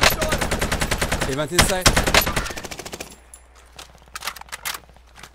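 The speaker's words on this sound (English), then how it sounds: "they were just shooting me from the other way" Rapid automatic gunfire from a video game firefight rattles out in dense bursts, then thins to scattered single shots, while players talk over the action.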